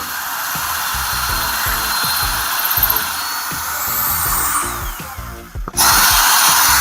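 A power drill whirs steadily at high speed, close and loud, with a brief dip near the end before the motor surges back up.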